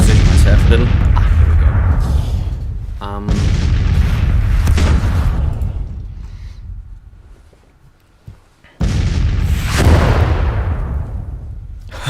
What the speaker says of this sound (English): at least my artillery is going for an engagement